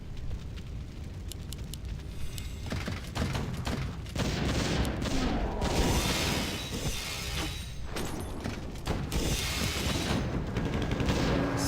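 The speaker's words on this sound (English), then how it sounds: "The mortar's hacking away at that ancient allure." Mortar fire pounding an ancient building in a real-time strategy match, a dense stream of sharp impacts, crashes and debris bursts layered over busy battle noise, loud and continuous throughout.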